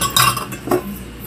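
Pancake batter being mixed in a bowl, with two distinct bursts of utensil clinks and scraping against the bowl over quiet background.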